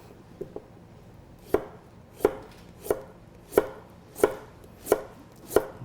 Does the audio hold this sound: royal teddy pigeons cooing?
no